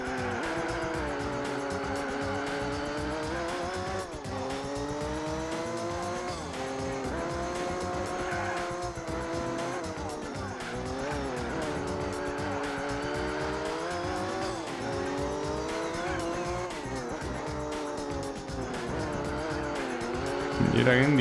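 A Gran Turismo 4 race car, the R89, screams at full throttle. Its engine note climbs and falls steadily through gear changes, and tire squeal breaks in through the corners, loud and continuous for the whole stretch.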